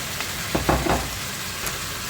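Zucchini hisses and sizzles as it goes into a hot pan with chicken for a Ugandan courgette dish, with a few brief stirring scrapes over a steady frying crackle.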